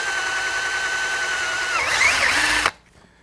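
A power drill bores holes into a fiberglass push pole for a fly-fishing skiff, a steady close whine that rises in pitch near the end, then cuts off abruptly to silence.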